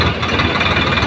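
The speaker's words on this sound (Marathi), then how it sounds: "बैलगाड्या काढायला ट्रॅक्टर आणलं होतं" Tractor engine idling in a sugarcane field, brought in to pull out stuck bullock carts: a loud, close, steady mechanical rumble with even low throbbing and no talk.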